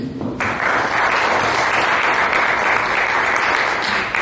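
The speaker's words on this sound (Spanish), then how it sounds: "Recibamos con un fuerte aplauso, por favor, al doctor Marco Marroquín Muñiz" Loud, sustained audience applause at a conference welcoming a doctor to the lecture, dense clapping rising quickly after a brief voice and holding steady for several seconds.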